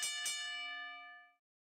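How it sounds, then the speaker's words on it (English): A wrestling ring bell at a live match start, two quick strikes close together then a bright metallic ring that hangs and decays for about a second before cutting off. "Ready, ring the bell."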